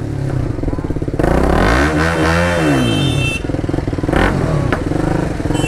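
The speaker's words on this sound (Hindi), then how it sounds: "भाई बाइक वार्म अप पूरा हो चुकी है और पटाखा अभी से ही मारना स्टार्ट कर दिया बाइक ने" A motorcycle rides off after its warm-up, its engine loud and close, revving with a rough, pulsing note and sharp crackling backfire pops throughout.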